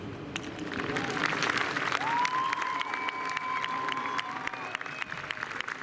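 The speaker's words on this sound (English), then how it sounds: "Give him another round of applause." An audience at an elementary school graduation applauds steadily, with dense, sustained clapping from a crowd and a few cheers, while voices rise and a child calls out over it.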